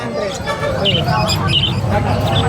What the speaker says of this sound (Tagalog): Tsaka maganda rito yung huni. Oh, yung huni niya. Maano lang yung huni niya, parang pipit.